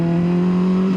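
A Yamaha R9 motorcycle engine drones loud and close with a steady, buzzy tone held at an even pitch, and no one speaks over it.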